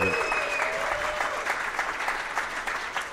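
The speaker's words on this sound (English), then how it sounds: "And another round of applause" A crowd at a live comedy podcast show in a Portland brewery claps steadily, a dense, sustained patter of many hands with a voice fading out at the very start.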